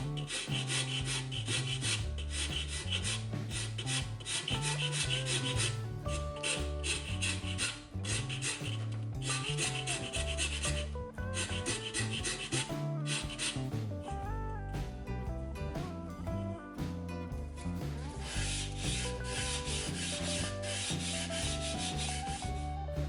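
A hand file rasps wooden planks clamped in a vise down to a radius, with continuous rhythmic scraping strokes, close and loud throughout.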